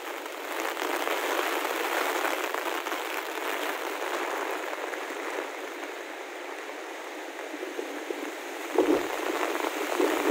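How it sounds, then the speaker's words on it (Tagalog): Heavy rain pours down steadily during a flood along the Marikina River, a dense, constant roar of wash and spatter lasting throughout, with no voices. "Grabe ang ulan"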